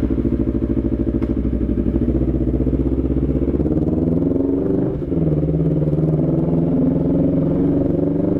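Motorcycle engine accelerating on an early Sunday morning ride, a loud, steady close-up drone with rising harmonic pitch, a brief dip near the middle, then a further climb as the bike pulls away.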